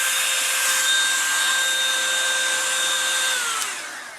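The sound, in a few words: Revlon One Step hair dryer and styler brush running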